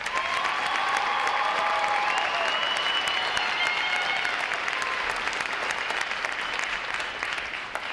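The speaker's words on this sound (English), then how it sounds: "A quick round of applause for 950." A large crowd at a U.S. Navy Recruit Training Command graduation applauds a recruit division, a loud continuous wash of clapping with some cheering and whistles mixed in, holding steady throughout.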